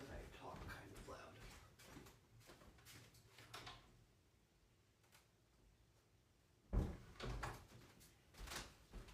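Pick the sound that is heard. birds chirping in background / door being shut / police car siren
door being shut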